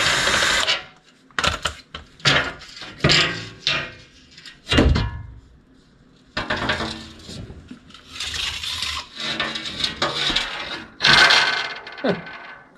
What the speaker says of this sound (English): now I can run them out with the drill.